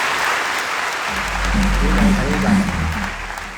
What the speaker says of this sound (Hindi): ताली होनी चाहिए